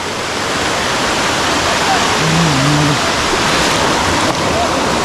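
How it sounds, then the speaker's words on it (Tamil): Loud, constant roar of a waterfall crashing nearby, with a faint voice briefly audible beneath the rushing water. "தண்ணி விழுந்துட்டு இருக்கு நல்லா விழுந்துட்டு இருக்கு"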